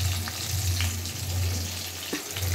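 Potatoes frying in oil seasoned with salt and turmeric, a steady close sizzle and crackle with a low hum beneath and a few soft clicks of stirring, no voices.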